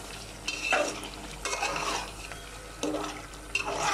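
A spoon stirs curry frying in a pan for a rohu fish dish, giving repeated scraping strokes over a continuous sizzle, close and moderately loud, with no one speaking.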